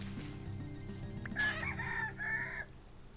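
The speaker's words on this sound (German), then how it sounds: "Jetzt greift mich der Hahn an." A rooster in the video game Vintage Story, attacking the player, lets out a loud drawn-out crow, with game music humming steadily underneath.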